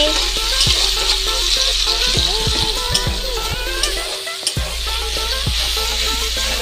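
Onions and tomatoes fry in a pan with a constant close sizzle, broken by repeated scraping and clanking strokes of a spoon as they are stirred. Faint voices can be heard in the background.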